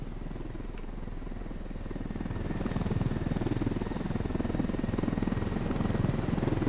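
Steady helicopter rotor thumping in the video game Tom Clancy's Ghost Recon Wildlands, with a rapid chop, growing slightly louder and closer over a continuous engine drone, no talking.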